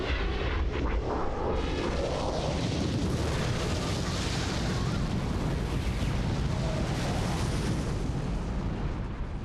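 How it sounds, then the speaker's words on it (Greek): Volcanic eruptions along the Mid-Atlantic Ridge near Iceland give a continuous, dense roar of rumbling and crackling bursts that stays loud and steady throughout, with no voices. "Εδώ οι εκρήξεις συχνά είναι έντονες."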